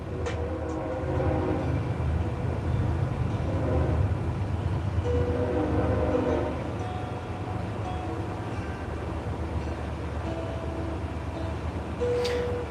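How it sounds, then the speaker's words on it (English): A train rumbles past outside with a steady low roar and rattling wheels, plus scattered squeals, lasting throughout with no one talking. "Excuse the train."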